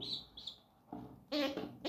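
An orphaned baby pigeon chirps at home in short, high, thin peeps, a few brief calls close by in a quiet room with no talk.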